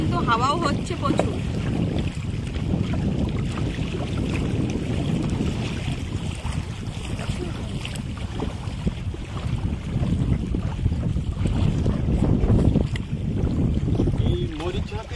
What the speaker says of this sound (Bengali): আর এখন কিন্তু হাওয়াও হচ্ছে প্রচুর